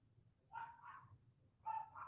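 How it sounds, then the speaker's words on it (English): A dog barks outside in two faint, distant bursts of a couple of woofs each, muffled as if through a wall, with low room hum underneath. "Sorry, I think there's like a dog outside, if you heard that."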